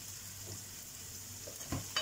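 Chopped onions with tomato paste frying in a pan, a soft steady sizzle with faint stirring scrapes and a couple of brief clinks, no voices.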